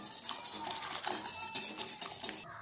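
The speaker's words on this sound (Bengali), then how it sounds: "মেয়োনিজটাকে গ্রেভির সঙ্গে ভালো করে এইভাবে মিশিয়ে নিচ্ছি" A spoon stirs mayonnaise into a prawn gravy in a pan, with a close, steady scraping and squelching rhythm and light metallic clinks against the pan.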